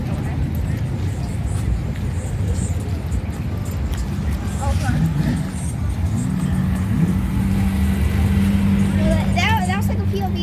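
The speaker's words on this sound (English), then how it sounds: "a car just speeds past" A car on a street near a car show rushes past up close, a loud revving engine swell amid continuous traffic rumble, with people talking over it.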